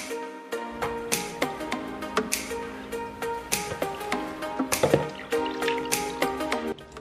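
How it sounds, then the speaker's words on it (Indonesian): Tied fabric being wetted and soaked in a container of water for tie-dye, with repeated close drips, splashes and squishy wet handling in an irregular rhythm, without speech. "Habis itu tinggal kita basahin si kainnya. Kita rendam dulu"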